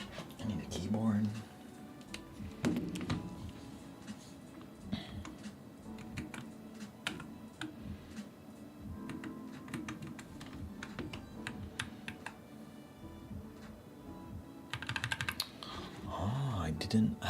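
Dense, close clicking of fingers typing on a computer keyboard, in bursts of rapid keystrokes with short pauses, under occasional quiet speech.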